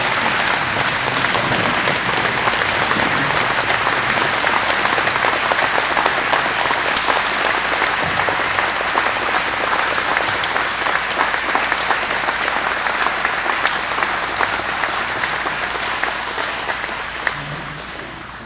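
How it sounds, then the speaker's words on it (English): A seated audience of sponsors at an evening event honoring an Army sergeant gives loud, sustained applause, a dense even wash of clapping that holds steady and tapers slightly at the end. "Let's give Eric a round of applause."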